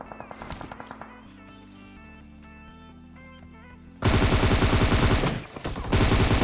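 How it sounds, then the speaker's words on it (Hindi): Gunfire in a video game as cover fire comes from behind: a loud, dense burst of rapid automatic shots fills the second half, briefly dropping out before resuming, after quieter music-like game sounds. "कोई पीछे से कवर फायर दे रहा था"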